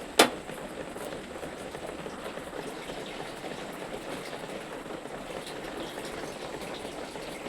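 A pot of fish and potato curry with added water bubbles at a simmer, a faint steady fizzing boil after one sharp clink at the start.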